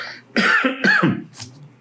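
A man coughs twice in quick succession, close and loud, followed by a short throat-clearing rasp and a brief breathy sound at the end.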